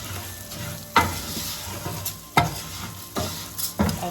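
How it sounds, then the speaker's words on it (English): Three cups of dry orzo being stirred in a hot pan, giving a soft sizzle with a few sharp scraping clacks of a utensil at irregular intervals. "So I'm gonna go ahead and add the Orzo. This is 3 cups of Orzo. Give that a stir."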